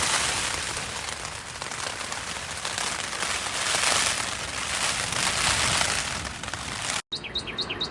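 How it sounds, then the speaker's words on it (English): Steady rain falls on a hiker's camp in the Arizona desert, a dense continuous hiss close by with no speech, ending in a brief break and a few bird chirps. "we've got a bit of rain."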